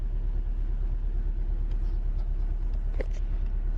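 A turbocharged 2.5-litre four-cylinder boxer-engine car with a manual gearbox drives along, its low steady road rumble and engine drone filling the cabin, with a faint brief knock or click near the end.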